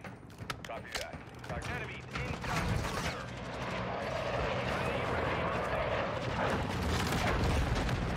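Airstrike explosions and gunfire in Call of Duty MW3, a dense roar of blasts and rumbling with sharp cracks early on, building into a sustained loud wash of explosive noise.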